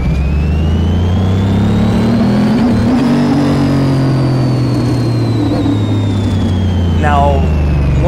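A car engine in Car Mechanic Simulator 2018 revs hard on a dyno run while working through its gears, giving a loud, continuous drone that climbs and holds steady, with a brief shifting blip near the end.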